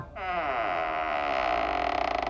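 A wooden door creaks open in one long, loud, drawn-out groan that wavers and stutters toward the end, heard alone as a horror-story sound effect.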